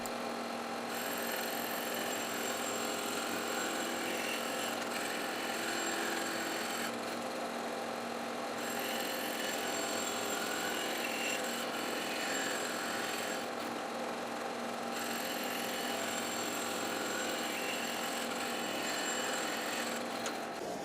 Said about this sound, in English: Now I'm cutting this first disc 1/4 inch thick off each of the two rings.